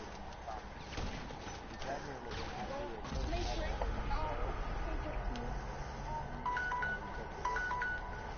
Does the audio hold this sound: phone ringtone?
yes